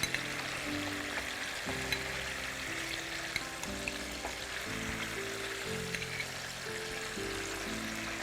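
Chicken dropped into fried masala sizzles steadily in the pan, a constant close frying hiss with faint stirring scrapes, no talking over it.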